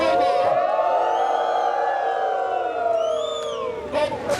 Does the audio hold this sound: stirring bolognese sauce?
no